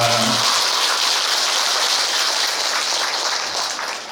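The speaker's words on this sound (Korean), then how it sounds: "인성공양에 주신 합창단에게 다시 큰 박수 한번 부탁드립니다" Applause for the choir at a Buddhist service, a dense, loud wash of clapping from the congregation that starts at full strength and tapers slightly toward the end. A brief voice is heard at the very start.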